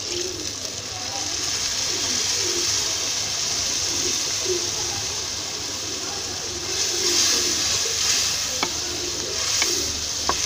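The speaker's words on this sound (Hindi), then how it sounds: "1 प्याली पानी डालेंगे ताकि मसाले की अच्छी से भुनाई हो जाए।" Steady sizzling in a pan as water hits hot spices for aloo methi, with a few light clinks and stirring sounds near the end.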